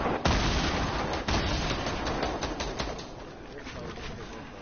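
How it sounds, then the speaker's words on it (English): Grenade launchers firing in a video game: several heavy, booming thumps spaced irregularly over a dense rumbling battle background, the first near and loud and later ones quieter, no talking. "They're shooting grenade launchers."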